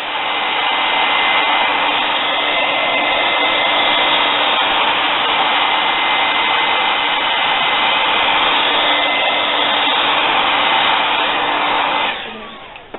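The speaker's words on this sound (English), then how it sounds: "Going in with a hairdryer." A hairdryer blows steadily on wet paint on a scarlet macaw painting for about twelve seconds, a loud, even whoosh with no talk, then cuts off near the end.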